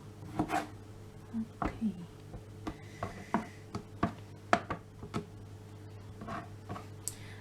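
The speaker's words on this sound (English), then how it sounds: "Now cut the tempeh." A knife chops tempeh on a board in a home kitchen, with irregular, crisp taps spread over several seconds; a voice briefly speaks once.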